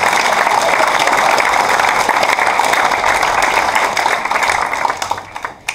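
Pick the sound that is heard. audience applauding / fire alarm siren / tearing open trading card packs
audience applauding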